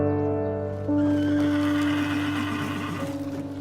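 A horse gives a loud, close whinny that rises and then wavers down over a few seconds, with a faint clop near the end.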